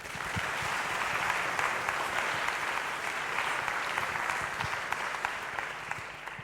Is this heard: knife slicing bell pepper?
no